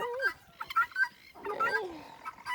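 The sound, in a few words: domestic birds clucking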